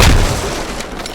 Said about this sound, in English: That's an enemy grenade.